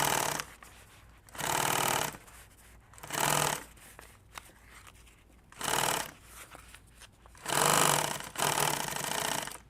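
Sewing machine stitching edge tape onto material, running in five or six short loud bursts of a second or so each, separated by quieter pauses with faint handling noise, close up and with no talking.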